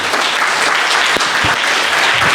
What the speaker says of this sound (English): please, man, give it a round of applause